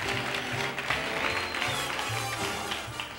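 Studio audience applause on a talk show, a steady wash of many hands clapping close up and fairly loud, with low voices and music-like tones faintly underneath.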